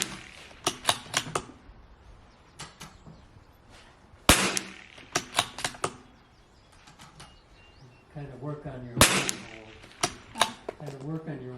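Rifle shots at a target on a windy range ring out as sharp, loud single cracks spaced a few seconds apart, with quieter pops and faint voices between them.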